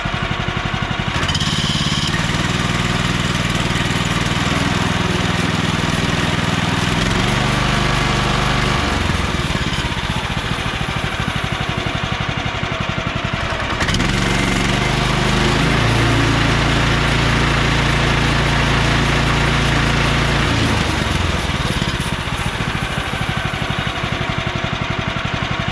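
A Woodland Mills sawmill cuts through salvaged hard maple with a loud, steady engine drone, the blade's pitch and load rising and falling as the cut advances through two passes.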